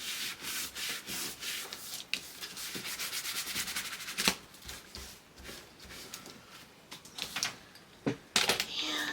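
Paper corner rounder on scrapbook album pages, a run of dry rubbing and shuffling sounds with a few sharp clicking punches close by.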